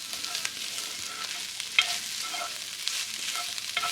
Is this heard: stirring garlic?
yes